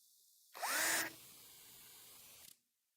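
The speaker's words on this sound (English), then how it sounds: "I'm going to drill one right here." Power drill boring a hole, a loud rising whine as the motor spins up, then a steadier quieter run for over a second before stopping.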